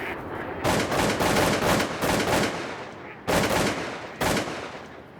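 Rapid volleys of Super X4 shotgun blasts at waterfowl on an Alberta hunt, loud and close. Several shots land in quick succession, followed by two separate single booms after short pauses.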